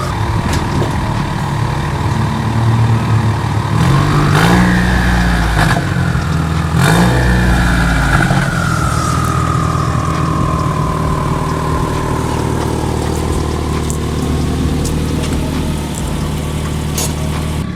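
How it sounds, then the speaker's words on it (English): A Subaru WRX engine idles loudly nearby and gets revved twice in quick succession, the pitch climbing sharply each time before settling back to a rumbling idle. "I'm just gonna pull it out, look at it, give it a few revs, and pull back in"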